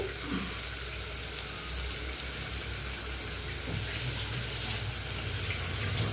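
Flattened rice (poha) being rinsed under a running kitchen tap, with a steady close-up rush and splash of water that continues without pause and has no voices over it.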